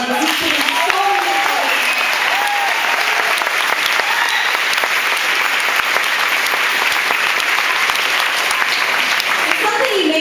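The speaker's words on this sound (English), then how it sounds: "So give him a round of applause" Sustained, loud round of applause from an audience at the opening ceremony of a fruit festival held at a summer camp, steady dense clapping with some cheering voices throughout.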